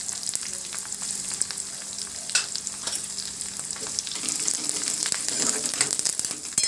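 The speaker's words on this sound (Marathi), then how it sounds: "छान लसण आणि मिरच्या लाल झाल्यात आपल्या। आता मी याच्यामध्ये हळद घालतीये।" Garlic and green chilies sizzle steadily in hot oil as turmeric goes in for a Maharashtrian dahi kadhi, with close crackling and spattering plus occasional stirring clinks that grow busier toward the end.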